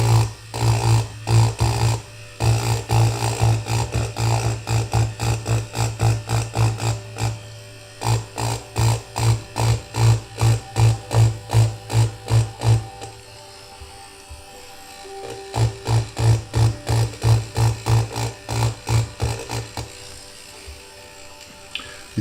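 A tattoo machine buzzes steadily while tattooing on paper, a close, loud rapid drone that runs in repeated bursts with short pauses between passes, with no voices.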